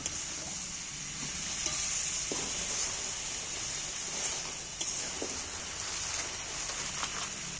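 Jackfruit curry with spices and a splash of water fries steadily in a pan, with a continuous soft sizzle and occasional faint scrapes of stirring close by, no talk.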